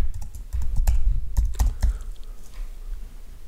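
Keystrokes on a computer keyboard as a layer name is typed in QCAD, a quick irregular run of close, crisp clicks that thins out toward the end.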